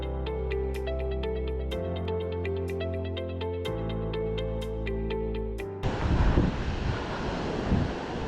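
Wind and ocean surf on California's remote Lost Coast Trail: a loud, steady broadband roar that takes over abruptly near the end, after several seconds of tonal music.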